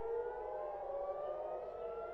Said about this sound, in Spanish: El sábado amaneció con el ruido de las sirenas.